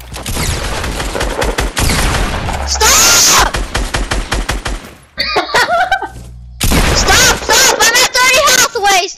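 Video game gunfire cracks out in rapid, loud bursts, with automatic volleys and single shots separated by short gaps, and a voice breaks in briefly between the bursts.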